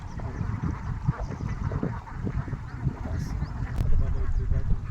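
A flock of farm ducks, about three months old and raised for market, keeps up a dense, continuous chatter of quacks and honks, close and fairly loud, with faint voices in the background.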